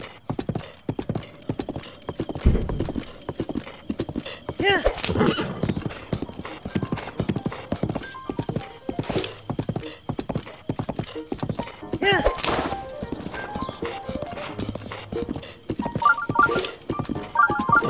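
Horse hooves clip-clop at a steady gallop while riding in The Legend of Zelda: Breath of the Wild, with game music and a brief whinny, and a person talking over the rhythmic beats throughout.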